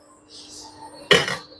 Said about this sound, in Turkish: Bakın burada çelik tencere seti var. Dört tane tenceresi var bunun.